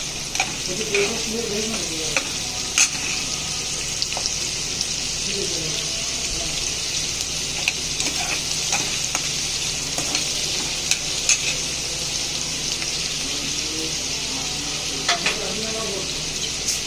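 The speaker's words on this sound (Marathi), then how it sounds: "कांदा छान परतून घ्यायचा आहे" Onion sautéing in hot oil for a mutton curry, a steady sizzle with stirring scrapes and occasional clinks of a spoon against the pan, continuous and close, with no one speaking.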